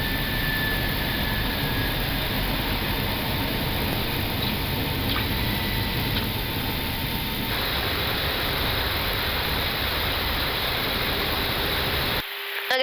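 Loud, steady roar of a Jetsmart Airbus A320neo's jet engines during the takeoff climb, heard from the cockpit as a dense, unbroken rumble and hiss that holds constant before cutting off abruptly near the end.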